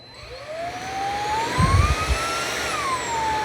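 An Amazon Basics cordless vacuum cleaner running on its high setting over carpet, a loud, steady motor whine whose pitch slowly climbs, with a brief low rumble partway through.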